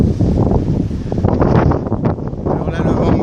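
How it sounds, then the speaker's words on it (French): Strong wind buffets the microphone at a port on Réunion, a loud continuous rumbling roar with gusty surges throughout, no voices over it. "Alors là le vent me vient de face."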